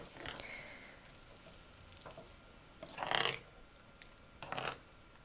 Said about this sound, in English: So we're just mixing everything up, making sure all the seafood and quail eggs are getting flavors from the fish sauce and paste.